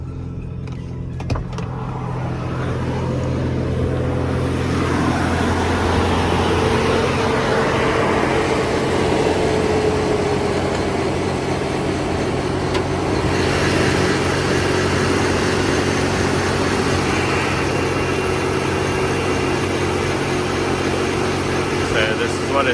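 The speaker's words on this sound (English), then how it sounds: "there's a cold start on the Land Cruiser" A 1994 Toyota Land Cruiser idles steadily just after a cold start, a continuous low engine hum with a faint tonal whine, heard from nearby with the hood open; someone talks over it at times.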